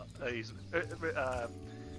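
Goats bleat in the Spyro video game, several wavering bleats in quick succession over game music, with people talking.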